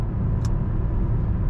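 A 1994 Mercedes-Benz E320 convertible cruising on a dry road, giving a steady, loud low rumble of engine and tire noise throughout, with one brief faint hiss.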